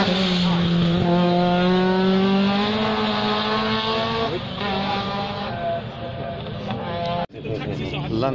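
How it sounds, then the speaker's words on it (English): Opel Ascona rally car at the Shelsley Walsh hillclimb, its engine note rising steadily as it accelerates, then a brief cut and a fresh pull, loud and close with background voices. "Opel Ascona."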